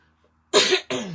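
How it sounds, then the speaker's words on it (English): Two sharp, harsh coughs in quick succession, close and fairly loud, after a brief quiet pause. "it's an annoying cough"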